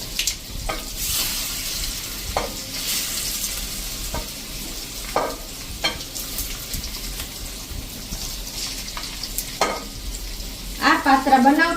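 Patra pieces, rolled colocasia leaves, sizzle steadily in a hot tempering while occasional stirring scrapes and taps punctuate the frying; a brief splash of water sounds near the end.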